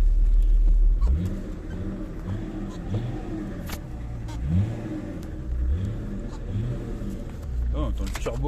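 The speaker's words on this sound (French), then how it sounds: "on entend le turbo qui souffle là" A BMW E34 525 TDS diesel engine idles and revs repeatedly with a rising turbo whoosh, loud and close, while someone talks over it.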